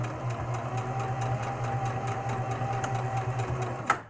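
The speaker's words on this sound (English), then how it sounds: "Lower that needle. Lower the presser foot. And just keep on sewing." A sewing machine runs at a steady hum with a fast, even stitching rhythm as a garment is sewn, ending with a brief clack.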